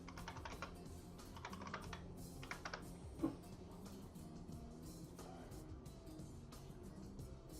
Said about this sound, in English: Just got to type back.